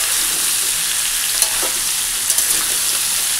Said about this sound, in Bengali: আলুটা ভেজে তুলে রেখে এই তেলের মধ্যে ফোড়ন দিয়ে ছোলা ছেড়ে দেবো